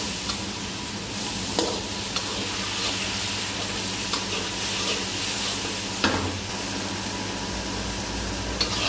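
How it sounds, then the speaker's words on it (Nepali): Masala spice paste fries in a pan for a chickpea curry, with a loud, continuous close-up sizzle broken by a few sharp ticks and stirring scrapes. "मसलालाई पाक्न दिने छु"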